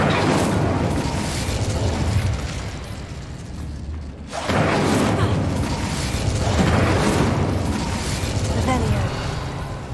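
The Incendio fire spell in Hogwarts Legacy goes off as dense, crackling bursts with roaring pops, a short gap, then more rumbling bursts.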